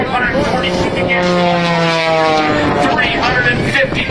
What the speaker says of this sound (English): And now as he comes right back down on here, vertical dive, powered up by that big 540 cubic inch